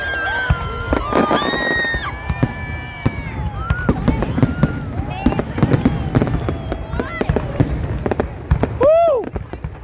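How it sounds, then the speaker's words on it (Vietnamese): Lunar New Year fireworks burst over a city square in Ha Tinh, with rising whistles and sharp crackling booms packed densely across the clip and a loud shell near the end, a murmuring crowd audible beneath. "Chỉ còn vài phút nữa thôi là màn trình diễn pháo hoa sẽ được bắt đầu."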